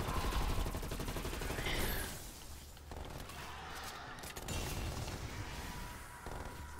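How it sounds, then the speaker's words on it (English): A sentry turret firing in Call of Duty Cold War zombies Outbreak mode, dense rapid gunfire that is strongest early, then keeps crackling on through mixed combat noise and booms. "Sentry turret killed the disciple there."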